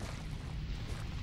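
A loud, sustained rumbling blast from an explosion in Resident Evil 7: Biohazard, the End of Zoe expansion, dense low-end roar filling the whole moment with no pause.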